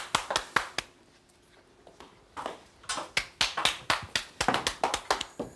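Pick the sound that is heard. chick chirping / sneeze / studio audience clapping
studio audience clapping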